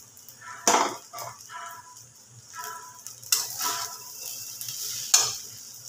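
Rice is stirred in a very hot wok for an old-style muri ghonto, giving several scraping, rustling strokes with a faint sizzle underneath, close by with no talk.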